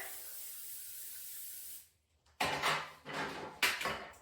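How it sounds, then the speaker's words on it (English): A long steady hiss from a can of olive oil cooking spray, then a pause followed by three short bursts of spray, close up with no talking. "So I buy the olive oil in a can to spray."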